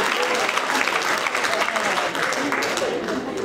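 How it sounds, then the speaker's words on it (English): Audience applauding after a skit at a school session, a dense, steady burst of many hands clapping close up, filling the whole stretch without a break. "give them a round of applause. That was good."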